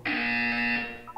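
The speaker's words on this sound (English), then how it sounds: "You will hear a buzzer." A buzzer in the Portal 2 video game sounds as a single loud, harsh tonal blast lasting about a second, followed by a brief softer tone.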